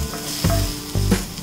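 Chopped onion sautéing in hot oil, a steady close sizzle broken by two scraping stirs of a spoon through the pan.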